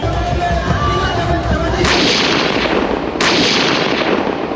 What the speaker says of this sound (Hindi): इक्कीस तोपों की सलामी दी